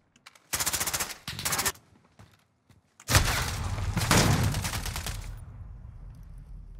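Rapid gunfire in a first-person shooter video game: two short sharp automatic bursts, a pause with faint clicks, then a loud sustained volley with heavy booming impacts that fades into a lingering rumble.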